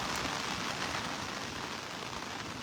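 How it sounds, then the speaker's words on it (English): Heavy rain pours steadily at Delnor-Wiggins Pass State Park in North Naples, Florida, heard from inside a parked car as a dense, continuous wash of drops drumming on the surface with no voices. "It's still raining pretty hard here."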